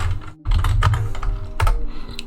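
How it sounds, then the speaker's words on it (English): Rapid clicking keystrokes on a computer keyboard form an irregular rhythm, close and fairly loud over a low background hum, as a command is typed. "and here we can start typing MGMT like this."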